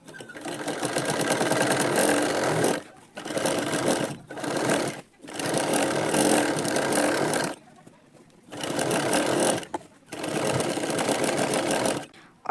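Sewing machine stitching down piping on a lined blouse, running in five loud, close bursts of rapid mechanical whirring separated by brief pauses.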